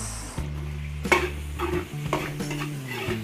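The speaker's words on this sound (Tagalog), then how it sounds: "Luto-lutoy lang po natin yung ating panggisa. Sibuyas at bawang." Chopped onion and garlic are stirred in a pan for a Filipino sauté, giving soft sizzling with a few scraping clinks of a utensil against the pan, close and without talk.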